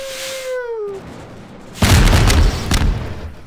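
Rocket in the Garry's Mod game: a descending whistle as it flies, a short quiet gap, then a loud close booming explosion with a rumbling tail and a second thump.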